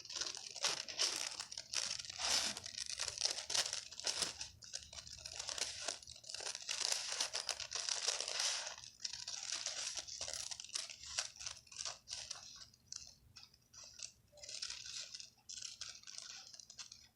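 Sewing pattern paper is handled and cut, making continuous close crinkling and rustling with scattered crunchy snips, fairly quiet and steady throughout, growing choppier toward the end.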